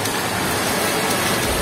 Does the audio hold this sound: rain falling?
yes